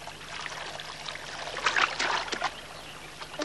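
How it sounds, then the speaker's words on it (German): Water pouring and trickling into a leaking wooden boat in a children's TV series, a soft splashing gurgle that swells briefly in the middle over a quiet background. "Das Boot hat ein großes Leck."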